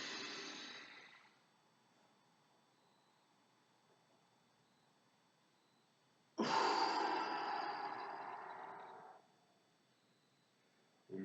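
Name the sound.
deep breathing in through the nose, then exhaling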